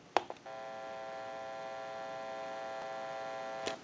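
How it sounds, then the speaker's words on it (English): An amplifier in an old rotary dial candlestick telephone with a bell box hums steadily and faintly after a click, holding a constant buzzing tone for several seconds before another click. "I just want to show that it would be the amplifier humming and not the telephone"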